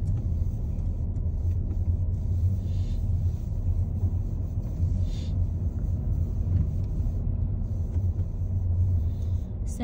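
Car driving slowly through town while looking for parking, a steady low engine and road rumble throughout with no pauses, close and even in level.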